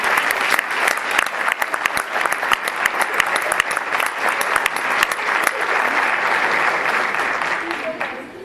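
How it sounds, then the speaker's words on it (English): Students traveling to Iowa State get another round of applause at a school board meeting, with lively clapping from the room that carries on steadily and begins to fade near the close. "Let's have another round of applause for these great students."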